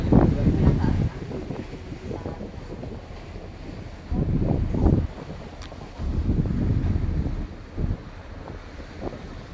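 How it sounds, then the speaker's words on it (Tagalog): Gusty wind buffets the microphone in low rumbling bursts, with quieter stretches between gusts and a faint hiss in the background. "sarap ng hangin."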